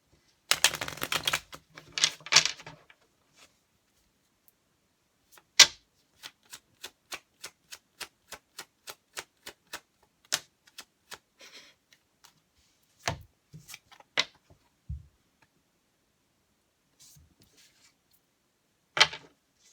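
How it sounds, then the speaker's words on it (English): Tarot cards are shuffled in a quiet room: a brief burst of riffling and rustling at the start, then sparse, crisp single taps and flicks as cards are handled and laid down, with long silences between. "I want to pull a couple more cards and just see."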